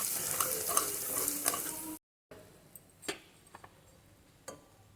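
A spoon stirs spices, gram flour and ground peanut powder into an eggplant curry in a pan, with a soft sizzle at first, then a brief gap followed by scattered scraping clicks and knocks of the spoon.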